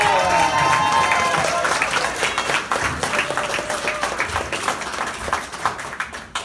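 An audience at a political event applauds a congressman: a loud, dense round of clapping with crowd murmur and scattered cheers, starting strong and gradually thinning into separate claps over about six seconds.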